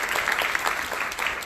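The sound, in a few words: audience applause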